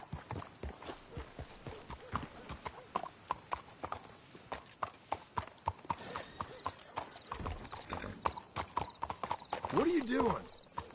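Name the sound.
horse hooves clip-clopping, from a video game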